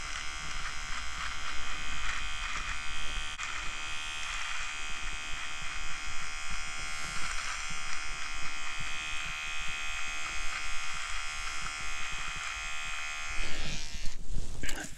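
Vivitar electric nose hair trimmer runs continuously close up, a steady high-pitched buzzing whine with slight fluctuations as it trims, lasting the whole fifteen seconds.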